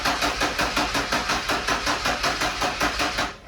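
A Ford F-150 300 engine cranks over after a cylinder head swap, the starter turning it in a fast, even rhythm of about a dozen pulses before it stops, close and loud with no talking.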